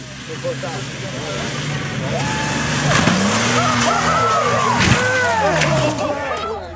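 A truck engine revs and roars during a failed jump, with a thud around the midpoint, mixed under steady talking throughout.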